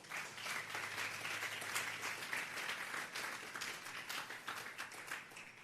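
A church congregation applauds during a sermon, with dense, continuous clapping at moderate distance, fairly quiet, holding steady throughout before easing slightly at the end.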